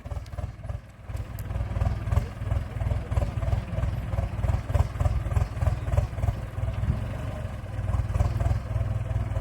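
A modified turbocharged 6640 tractor engine hauls a load of sugarcane, giving a loud, steady low rumble with continuous clattering throughout, close by and alone with no talk.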